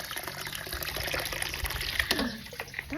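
Water runs freely at an outdoor bathing spot, a steady close splashing flow with a brief gurgle near the end and no speech.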